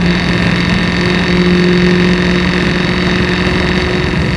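A 550 HP 1963 Ford Falcon race car engine drones steadily in fifth gear, a loud, close, even low rumble with a constant pitch and no talk.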